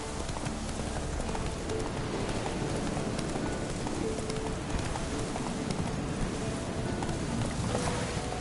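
Hooves of Roach, the horse in The Witcher 3, clip-clop at a steady trotting rhythm through a continuous dense ambient wash, moderately near and fairly loud, with no one talking.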